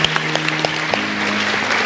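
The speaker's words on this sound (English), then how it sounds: "Join me in one more round of applause for our students" Brief burst of applause from a school academic awards audience, dense clapping with a few sharper individual claps standing out, fairly close.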